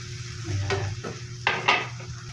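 Chili goes into a pan already sautéing anchovies, onion and tomato; a steady sizzle runs underneath while a spoon or spatula scrapes and clinks against the pan in a few sharp strokes.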